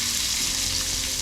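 Chopped onion frying with urad dal in hot oil, a steady bright sizzle with soft crackles, close and continuous with no talk.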